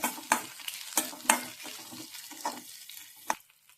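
Onion and capsicum sautéing in a pan, with soft sizzling and a series of spatula scrapes and clinks against the metal at an irregular pace, close by and moderately loud.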